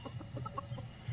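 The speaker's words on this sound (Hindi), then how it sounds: "ये असील मुर्गी है" An Aseel hen, a fighting-breed chicken on a desi poultry farm, gives a brief run of soft, low clucks, close but quiet, with no talk.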